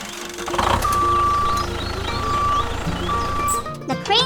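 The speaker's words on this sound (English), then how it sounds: "The crane truck operates, lifting the big rack out of the tank." Cartoon crane truck operating as it lifts a rock, a loud motor hum with repeated electronic beeping tones and mechanical clanks, ending in a short rising whirr.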